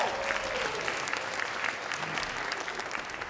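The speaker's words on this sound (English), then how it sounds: "That needs a round of applause." Audience applause at the Wearable Art Show in Ketchikan, a dense, steady wash of clapping from a large crowd throughout, fairly loud and sustained.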